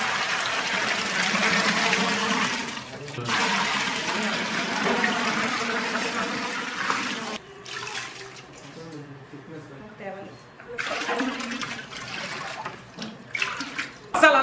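Water poured into a cooking pot at a roadside bhel puri stall, a steady splashing rush under continuous talk, easing off midway and returning in bursts.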